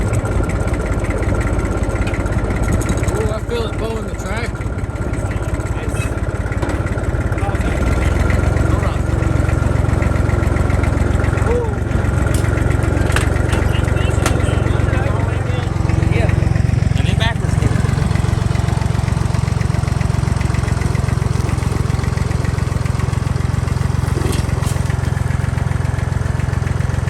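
A low tractor engine rumbles steadily throughout, idling with a constant drone and occasional mechanical clanks over it.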